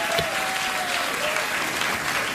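A studio audience at a comedy sketch show breaks into steady applause, a continuous dense patter of many hands clapping at moderate volume, with a brief voice over it near the start.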